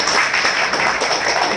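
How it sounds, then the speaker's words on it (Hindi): Audience at a business information-sharing meeting in Bhubaneswar gives a short, dense burst of applause, steady and loud from start to finish. "एक बार जोरदार ताली चाहूंगा मैं"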